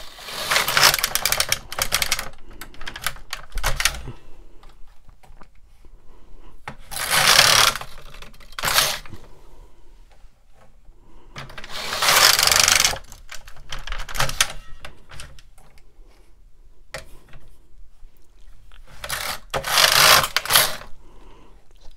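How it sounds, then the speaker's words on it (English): A Brother KX350 or LK150 knitting machine carriage is pushed across the needle bed while knitting a stocking. It makes four clattering, rasping passes, each a few seconds long, with quiet gaps between them and no talk. "I'm just going for the opposite needle, the closest one to me, and knitting across"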